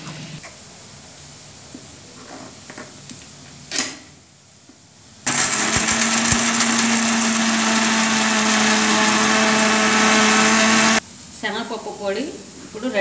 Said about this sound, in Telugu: జీలకర్ర ఒక 1/2 స్పూను, 1 స్పూన్ కారము వేసి దీన్ని మిక్సీలో పౌడర్ చేద్దాం.